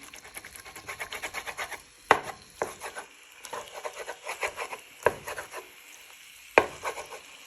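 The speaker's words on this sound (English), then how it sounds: "Keep breaking them up with the wooden spoon if you need to." Soft clatter and scraping of a wooden spoon stirring chicken frying in a pan, with a few sharper knocks against the pan and a faint sizzle beneath.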